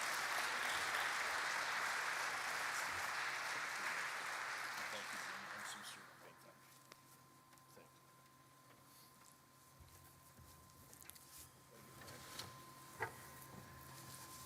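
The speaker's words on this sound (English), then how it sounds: "let's give a round of applause to Jamie Tennyson for his service." Audience applause at a conference delegate meeting, a steady wash of clapping for about six seconds that fades into a quiet room with scattered small clicks and noises.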